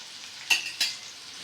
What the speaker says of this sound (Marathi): 1 चमचा जिरं टाकून असं हलवून घेतलं मस्त